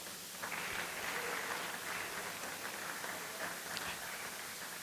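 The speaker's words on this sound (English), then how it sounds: "So a round of applause for yourselves" An audience at an expo event applauds. The clapping is dense, faint and distant, and it keeps a steady hiss-like texture throughout.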